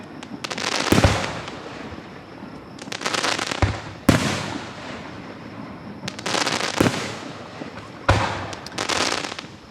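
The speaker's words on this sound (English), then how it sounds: "whoever ordered the fireworks this year is a fan of purple" Fourth of July fireworks over a park in Gettysburg, with repeated booming bursts followed by crackling trails, coming in waves every couple of seconds at moderate distance.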